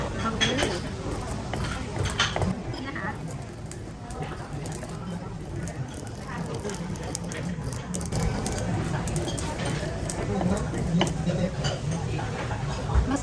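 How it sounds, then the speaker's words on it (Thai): Freshly roasted, still-hot sesame seeds are ground by hand for tonkatsu at a Japanese restaurant, making irregular scraping, clinking and gritty rattles of seeds against a bowl, with voices talking throughout. "อันนี้ก็คืองานะคะที่เราจะใช้บดกันค่ะ"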